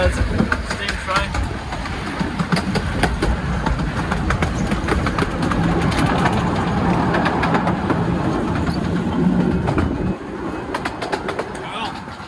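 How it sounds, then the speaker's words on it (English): A train rumbles past close by with steady rolling noise and rhythmic clicks of wheels over rail joints, continuous and loud for about ten seconds before easing off, with people talking over it. "Oh, there's a steam train."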